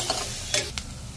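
Sliced onions with salt and half a spoon of turmeric sautéed and stirred in a pan, soft scraping strokes over a steady sizzle, close and fairly quiet.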